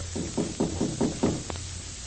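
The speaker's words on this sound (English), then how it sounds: "And now there's a knock on Pinky's bedroom door." Five or six firm knocks on a bedroom door as a radio drama effect, evenly spaced, close and clear against a quiet background.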